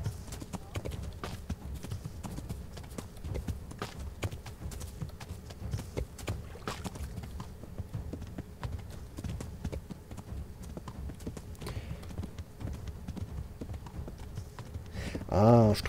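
Horse hooves clip-clopping in a steady walking rhythm while riding in the medieval video game Kingdom Come: Deliverance, moderately close, continuing throughout with a short tonal sound at the very end.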